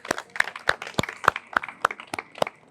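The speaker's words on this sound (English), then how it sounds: "A round of applause." Sparse clapping from an evening event audience, a handful of distinct, irregular claps that are close and fairly thin rather than a full roar of applause.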